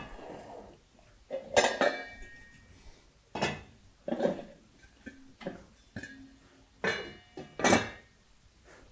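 A lid set down onto a simmering pot on a wood-fired stove, giving a short metallic clink among several separate clanks of cookware, close by and fairly loud, with no talking.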